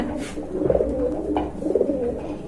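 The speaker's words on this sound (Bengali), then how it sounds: "এটা কি কবুতর বারহুমা কবুতর" A pair of Barhuma breed pigeons coo up close, two soft rolling throaty bursts in quick succession, clear and alone.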